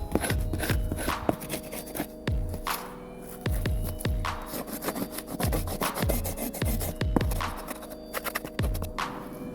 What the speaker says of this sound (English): you can take your knife and you can start scraping at it